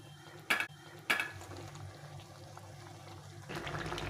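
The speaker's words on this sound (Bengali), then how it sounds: "সামান্য একটু জল দিয়ে একটু ফুটিয়ে নিয়ে নামিয়ে দেবো" Soybean curry simmering in a pot after a little boiled water is added, with two sharp clinks of a utensil against the pan early on, then a low steady bubbling and a slight rise in sizzle near the end.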